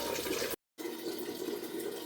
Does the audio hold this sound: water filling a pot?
yes